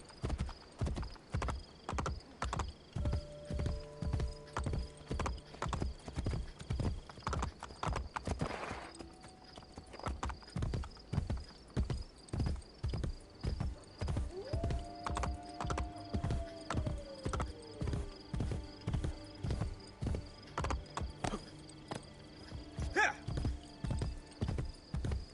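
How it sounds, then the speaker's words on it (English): A stolen horse gallops in Assassin's Creed Brotherhood, its hooves pounding in a steady, fast clip-clop rhythm throughout, with a brief whinny and faint game music underneath. "this is the horse I just stole from that one"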